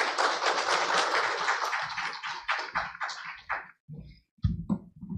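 An audience at a Busan public forum on subway free-ride funding claps in a dense burst of applause that thins into scattered claps and then a few isolated slaps.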